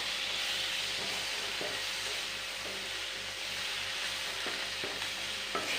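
Chopped tomatoes fry in egg curry gravy with a steady, close sizzle and hiss, broken by occasional scrapes and taps of a spoon stirring the pan.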